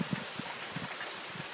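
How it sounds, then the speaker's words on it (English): Heavy rain pours during a severe thunderstorm in Taft, Tennessee, a steady close hiss of water with scattered heavier drops striking nearby surfaces. "And here comes the rain."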